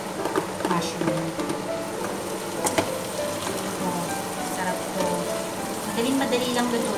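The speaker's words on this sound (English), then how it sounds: "after 3 minutes na nasaute ko yung garlic and onions, lalagyan nyo naman yung mushroom" Sliced mushrooms sautéing in a pan with garlic and onions for a burger steak dish: a steady, close sizzle and crackle running throughout, with someone speaking over it.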